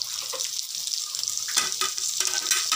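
Sliced onion and capsicum hitting a hot pan for dragon chicken, a close hissing sizzle broken by quick stirring clatters that grow busier toward the end.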